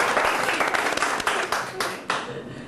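Guests on a Taiwanese travel show applaud after someone correctly guesses a cappuccino, a dense burst of clapping lasting a few seconds with voices over it.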